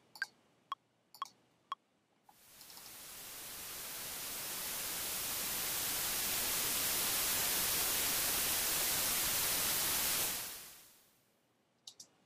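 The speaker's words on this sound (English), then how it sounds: "that's one of the ways you can create a white noise loop for basically EDM" White noise resampled in Ableton forms a swooshing build for an EDM loop, rising steadily from quiet to a loud broad hiss over about eight seconds, then cutting off, with a few sharp clicks before and after.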